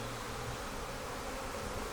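Honeybees buzzing around an open Flow Hive while frames are inspected, a dense, continuous low drone of many wings, fairly faint and unbroken, with no voices.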